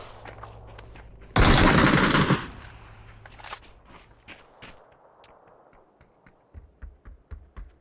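A loud burst of automatic gunfire in the battle royale game PUBG lasts about a second, followed by quieter scattered shots and a series of thumping footsteps or impacts toward the end.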